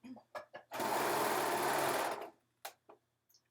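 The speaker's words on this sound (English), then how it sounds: "For some reason, this serger keeps wanting to grab the cutoffs." A serger sewing machine runs in one close, steady whir of about a second and a half, with brief clicks and handling noises before and after it and quiet speech nearby.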